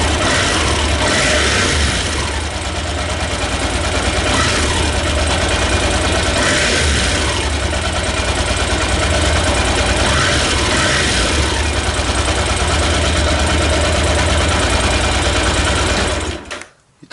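Yamaha TDM 850 motorcycle from 2000 running with its mufflers removed, a loud, close, continuous engine drone with a rapid pulsing beat and slight swells in revving before cutting off at the end.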